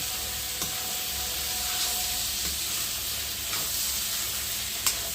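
Egg curry with coriander powder being stirred in a hot pan gives a steady loud sizzle and hiss, close by, with a few faint scraping clicks from the spoon and no talking.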